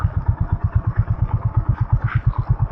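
A motorcycle on a scenic country road toward Kaginahare near Sakaleshpura, its engine close and loud with a fast, even thumping beat throughout, and faint voices in the background.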